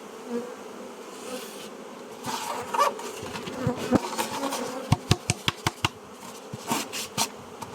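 A honeybee swarm housed in a hive three days earlier buzzes steadily throughout, with sharp knocks and clicks of handling the hive clustering toward the end.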